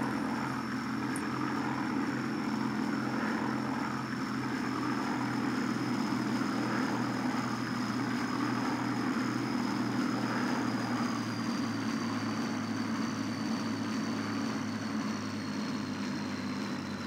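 A WWII aircraft's propeller engine drones steadily and loudly during a landing attempt in a flight video game, a constant throbbing low hum with a thin high whine above it, running unbroken without any talk.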